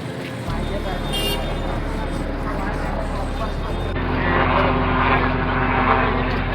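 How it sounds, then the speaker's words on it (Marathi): Steady, loud engine drone of a helicopter overhead showering flower petals at Shivneri Fort during the Shiv Jayanti celebration, with the pitch and texture shifting partway through as it passes. "आपण हा वर हेलिकॉप्टर बघतोय, हा पुष्पवृष्टीसाठी आलेला होता"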